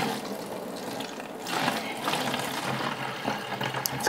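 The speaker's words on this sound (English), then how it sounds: "when I put my apple cider vinegar in, right where the water was on that line, it's an old fruit juice jug" Apple cider vinegar glugs from a bottle into an old plastic fruit juice jug, a close splashing pour that swells louder midway and trickles on for a few seconds, with no voices.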